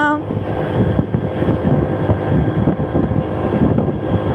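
Steady low rumble of a vehicle heard from inside the cabin as it drives, continuous and moderately loud with wind-like noise throughout.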